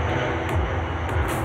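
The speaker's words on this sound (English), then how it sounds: "the noise from huge aircraft is absolutely deafening" A steady, loud roar of a large aircraft engine passing low over Myrtle Avenue near an airport fills the whole clip, with broadband rumble and no voices.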